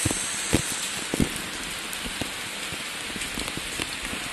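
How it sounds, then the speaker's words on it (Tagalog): Steady rainfall pattering on surfaces, a dense hiss with scattered louder drops, close and continuous with no talking. "Just enjoy every rainfall."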